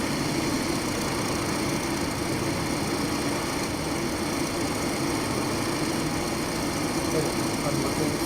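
Engine of a WWI aircraft in the Rise of Flight simulator, a steady loud droning hum with a rough, constant vibration and no change in pace, heard alone throughout.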